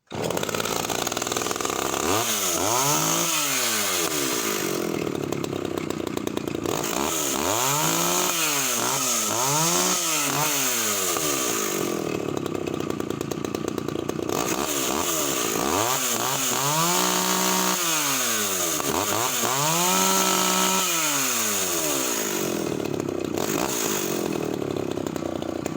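A Stihl 08S or Echo 550EVL chainsaw runs close by, its engine repeatedly revving up to a loud scream and dropping back to a lazy idle over and over.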